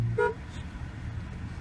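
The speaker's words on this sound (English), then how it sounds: "Dude, honk at him." A car horn gives one short, loud toot near the start. A low rumble of traffic and vehicle noise continues after it.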